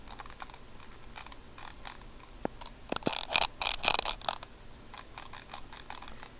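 Rapid clicking of a cheap plastic computer mouse, sharp and close, building into a denser burst in the middle before settling back to scattered light clicks.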